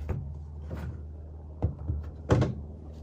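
Cover being opened on an Onan 5500 Marquis Gold RV generator, giving a few hollow thunks and clicks, with one louder knock near the end, close by and without talk.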